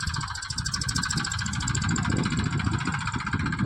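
A farm tractor engine runs steadily while fertilizer is being sown on a farm plot, a continuous close, rumbling drone with a rhythmic mechanical throb and no talking.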